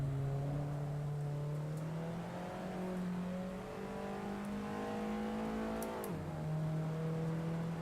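Assetto Corsa race car on a lap with its sim engine note climbing slowly through a long, steady pull, then a quick downshift blip around a corner before the drone resumes; loud, continuous and unaccompanied by speech.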